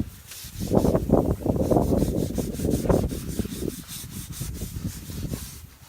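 Abrasive pads sanding a stripped exterior wooden window frame, giving a close, quiet run of rhythmic rubbing strokes that repeat steadily for several seconds with no talking over them.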